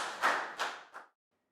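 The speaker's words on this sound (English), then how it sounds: "Big round of applause for Pat" Three sharp claps ring out in a primary school classroom as a brief round of applause, closely spaced and near, then fading to silence, with no talking.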